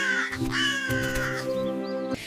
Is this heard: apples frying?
no